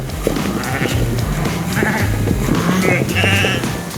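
Dorper sheep bleat several times at close range in a farm pen, with short repeated calls from more than one animal.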